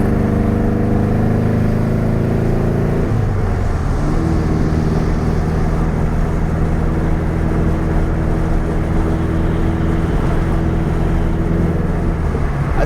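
A 1966 VW Beetle's 1776cc engine with a fuel problem runs loud and close, its steady drone stumbling and dropping pitch partway through before settling into an uneven, rough idle with no one speaking.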